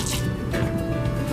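A lab cup being rinsed with water at a sink after a chemistry experiment, a short close splashing and dripping of running water with a faint steady tone beneath.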